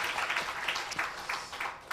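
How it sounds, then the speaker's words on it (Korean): Audience applause at an alumni talk concert marking a university history department's 70th anniversary, a brief patter of scattered hand clapping from a modest crowd in a hall, moderately loud. "우리 박강희 동무님께도 박수 한번 주시기 바랍니다"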